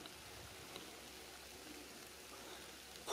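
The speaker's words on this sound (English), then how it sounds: "rain falling" Rain falls steadily at a railroad crossing, making a soft, even hiss that stays faint and constant throughout, with no voices.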